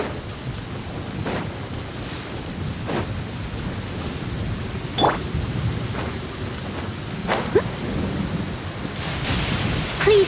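Steady rain falls throughout during a thunderstorm in the video game Genshin Impact, with several soft, distant thunder rumbles rolling in at intervals and a louder burst of rain near the end.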